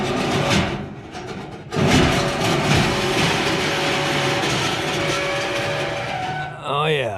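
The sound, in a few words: faulty HVAC blower running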